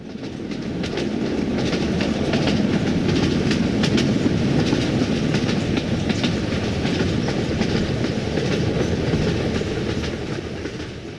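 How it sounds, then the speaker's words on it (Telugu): A London Underground Piccadilly line train pulling into a platform, a loud steady rumble with rhythmic clickety-clack of wheels that swells and holds, no voices heard. "సో, ఇదన్నమాట మన ట్రైన్ వస్తుంది చూడండి."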